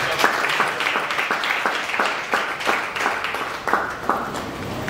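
A church congregation at a Sunday worship service applauds together, sustained rhythmic clapping that pulses steadily and stays loud and close throughout, with no voices over it.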